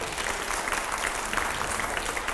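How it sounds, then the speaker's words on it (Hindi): Loud, dense applause fills a studio during a televised political interview, a steady unbroken wash of many hands clapping at once for the full stretch. "जोरदार तालियां हो।"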